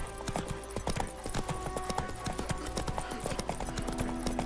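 Hooves of the horse Roach gallop in The Witcher 3, a steady rapid clip-clop rhythm over continuous ambient game sound, close and prominent.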